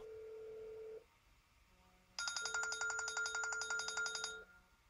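An iPhone 6/6S in a flashing case rings when called. A single faint tone sounds, then a short pause, then a bright, rapidly trilling ringtone that repeats for over two seconds before stopping.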